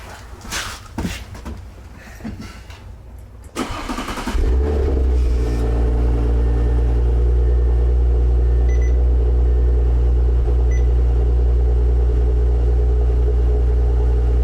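A car engine with a stock exhaust starts with a sharp crank and then idles and revs steadily with a deep, loud rumble in a garage, after some initial clatter.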